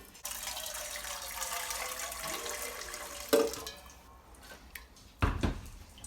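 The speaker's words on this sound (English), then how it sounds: "Fill your pot to the minimum line." Tap water runs steadily into a pot for a few seconds, then stops. Loud clanks follow as the pot is handled and set down.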